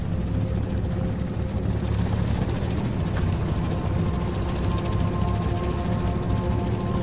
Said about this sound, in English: Please, chopper, go a fucking way.